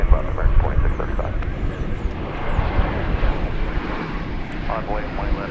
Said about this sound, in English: Arriving from San Diego, not San Antonio, is this Airbus A321.